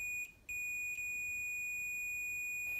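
A multimeter on continuity mode gives short, clear electronic beeps while testing the bridge rectifier of a vintage AKAI AM-U01 amplifier, several brief tones over a quiet background.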